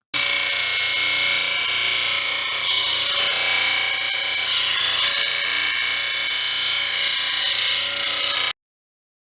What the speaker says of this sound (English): Diamond Pacific supplies cab rests for the Genie that enable us to grind that 15-degree angle.